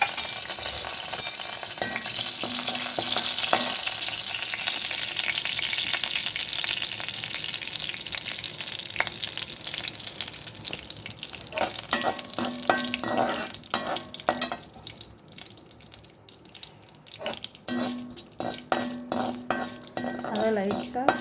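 Fenugreek seeds roast in a pan while being stirred, a bright crackling sizzle at first that thins out later, punctuated by metal spoon clinks and scrapes against the pan.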